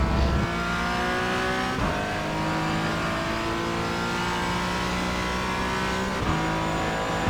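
A Porsche Cayman GT4 in iRacing at Sebring, its engine pulling hard at full power with rising revs, several quick upshifts breaking the steady loud drone, heard alone from onboard.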